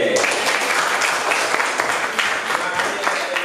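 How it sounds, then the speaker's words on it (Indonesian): Participants at a teacher-training class meeting clap for a classmate, giving a short, lively round of applause that holds steady throughout with a few faint voices mixed in. "Kita tepuk tangan untuk Edelweiss."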